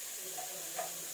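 Spices crackle in hot oil as a strong tempering (oggarane) for clams sukka, a soft, steady sizzle with faint voices murmuring beneath it.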